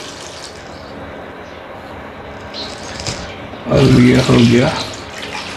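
Water pours from a tap into a cooking pot holding 2 kg of mutton trotters, a running, splashing stream that swells loudly near the end while someone speaks Hindi over it.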